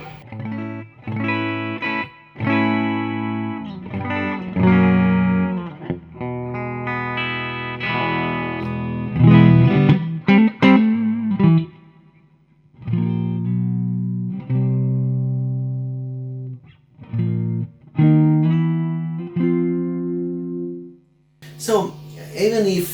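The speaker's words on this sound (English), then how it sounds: "Another beautiful pedal that I like that I like it so much is the phaser, because this is my pin sound." Electric guitar played through a phaser pedal, with sustained notes and chords sweeping in a swirling, shifting tone, pausing between phrases and ringing with reverb.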